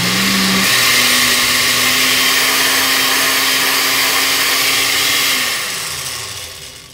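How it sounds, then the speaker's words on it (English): An electric blender whirring through shadon beni seasoning, loud and close with a constant motor whine that runs steadily before winding down at the end. "all you gotta do is just keep blending and stuff"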